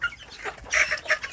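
Native village chicks, the smallest group in a brooding pen, give a few short, high peeping cheeps in quick bursts. The calls are close and moderately loud, with no talk.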